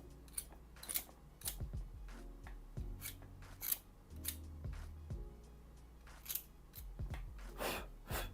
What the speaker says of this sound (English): Now let me sharpen my pencil a little bit.